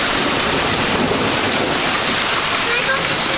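Heavy hail storm pelting down outdoors near a house, a dense, steady hiss and clatter of hailstones filling the whole clip without a break.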